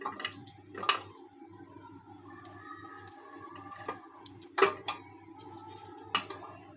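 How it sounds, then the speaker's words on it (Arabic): Garlic cloves chopped in a small mini food chopper in a home kitchen, with a few sharp clacking chops and rattles standing out over low, quiet background clatter. "وهنيجي بفصوص الثوم برضه هنحطها في الكبه كده ونقطعهم"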